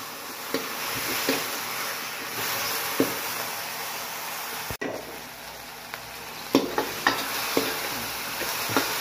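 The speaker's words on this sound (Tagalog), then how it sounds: "Lagyan na natin ang ating kamatis. Gisahin natin mabuti." Tomatoes are sautéed in a pan while a chayote dish is cooked, with a steady sizzle and occasional scraping stir strokes from a utensil, close up with no voices.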